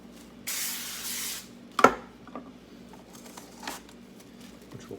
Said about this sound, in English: Lightly spray the surface of some plastic wrap.